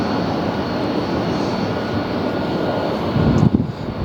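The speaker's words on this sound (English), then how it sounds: "it's a 767 with the CF6 engines coming up" A Boeing 767 with CF6 engines passes at LAX, giving a loud, steady jet roar that swells slightly near the end.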